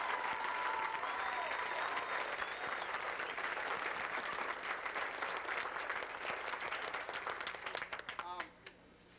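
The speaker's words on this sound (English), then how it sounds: "How about a round of applause?" At a high school band preseason concert, the crowd gives Mr. Miller a round of applause, a loud sustained burst of clapping that thins into scattered final claps, with murmuring voices mixed in.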